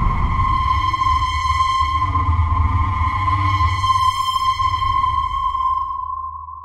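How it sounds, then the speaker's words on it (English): Metallic, distorted horror synth tone built in Vital with chorus and high resonance, a steady ringing sonar-like ping with shimmering overtones over a low rumbling drone, sustained and fading at the end. "in combination with the chorus and the distortion and the rather higher resonance that we have here, we get this kind of metallic sound"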